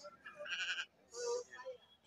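Sheep bleat at a Tuesday livestock market in Kadiri, with two or three wavering calls close by over quiet background noise.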